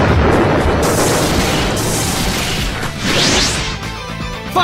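A Fire Style Dragon Flame Jutsu in Naruto Storm 4 roars out as a loud, continuous blast of booming, crashing fire with sweeping whooshes, sustained across the whole stretch.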